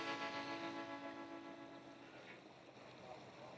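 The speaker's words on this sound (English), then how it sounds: "Have a little bit of a waterfall here behind us," Steady rushing water from a small waterfall running under a road on the Cabot Trail, a continuous broadband wash that stays fairly loud and even throughout, with no other sounds standing out.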